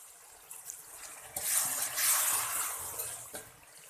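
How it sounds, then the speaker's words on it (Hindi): A little water poured into a pot of vegetable pulao, a close splashing pour lasting about two seconds before tapering off. "थोड़ा सा पानी और ऐड कर लेंगे।"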